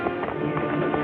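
Rhythmic hoofbeats of horses clip-clopping at a fast pace, steady and fairly close, with no voices over them.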